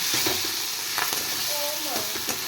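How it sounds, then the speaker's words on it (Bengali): Tomato and spice masala, with the tomatoes melted down for a shing fish curry, sizzles steadily in a pan while being stirred, with scraping strokes and soft clinks over a constant frying hiss. "এবার এটা ভালো করে আমি একটু কষিয়ে নেব"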